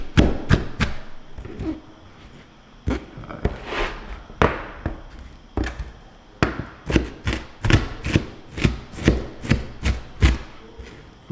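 A knife chops white onions on a cutting board, a rapid series of sharp, close thuds and taps in uneven bursts that settle into a steady rhythm toward the end.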